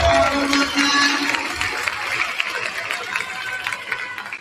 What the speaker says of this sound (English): Let's give a round of applause to our Carver alumni.